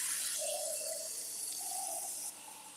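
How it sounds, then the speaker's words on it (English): Water streams steadily into the reservoir of a Keurig coffee maker, a continuous close splashing pour that eases slightly near the end, with no voices. "Let me put some water in the Keurig."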